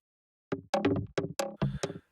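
A reversed section of an audio sample, moved and shifted into a different key in psytrance sound design. It plays as six short tonal bursts in a quick, uneven rhythm, clear and alone against silence.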